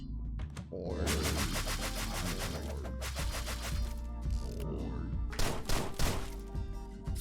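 Rapid gunshots in Deadbolt, a zombie-themed video game, fire in quick repeated bursts over background music, with a cluster of louder shots near the end, fairly close and punchy.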